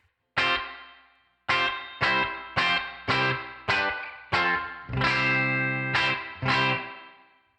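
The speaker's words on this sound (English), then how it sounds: "This is the original Spring Reverb in the Headrush." Electric guitar strummed chords through the original Spring Reverb effect on a Headrush unit, eight or so separate hits with pauses, each ringing out with a bright, splashy reverb tail; no voices.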